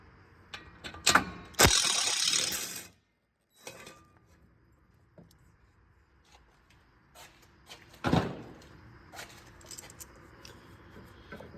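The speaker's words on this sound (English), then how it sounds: "And this one has an 8mm bolt. We'll just take that out." Removing an 8mm bolt from the AC condenser bracket on a 2004-2008 Ford F150: a short burst of ratcheting wrench clicks, then scattered metallic taps and clunks of the bolt and bracket close by, no talking.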